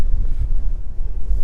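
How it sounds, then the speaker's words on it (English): Gusting wind buffets the microphone outdoors in the rain, a steady low rumbling roar with uneven surges throughout, close and loud, with no voices. "raining and"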